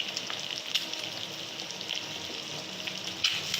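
Eggs fry in hot oil in a wok alongside vegetables, giving a steady close crackling sizzle with a few sharper pops and a faint scrape of stirring, no voices.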